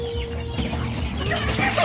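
Shamo chickens clucking at close range on a rural Philippine farm, a steady low murmur of soft clucks over a continuous background hum, with no talking.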